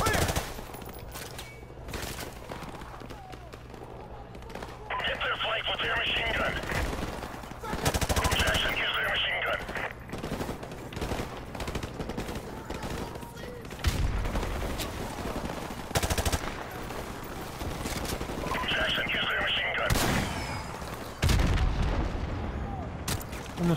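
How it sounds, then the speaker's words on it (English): Machine gun fire in the Call of Duty: Modern Warfare Remastered campaign: steady rattling automatic fire with scattered explosive booms, running continuously under a busy battle mix with intermittent talk. "A machine gun."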